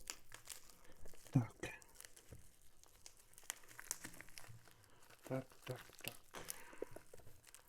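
Rustling and crinkling of a plastic packaging bag wrapped in paper as Monster Airmars XKT26 gaming headphones are unpacked close up, in irregular bursts with quiet speech in between.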